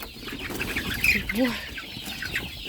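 Several bantam hens cluck and chicks cheep at close range while being herded into a temporary summer pen, with one louder squawk rising out of the flock's chatter.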